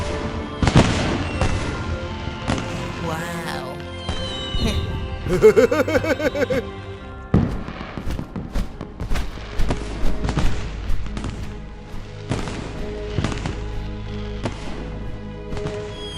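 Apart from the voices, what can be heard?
fireworks exploding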